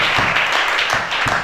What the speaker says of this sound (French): Acclamez chacun.